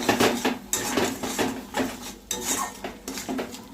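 Spices with salt, turmeric, coriander, cumin and chili powder are stirred and sautéed in a pan, a spatula scraping and clinking against metal in quick irregular strokes.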